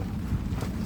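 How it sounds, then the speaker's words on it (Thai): Storm wind gusts at a hut, a brief, low, blustery rumble buffeting the microphone. "ลมมาแล้ว"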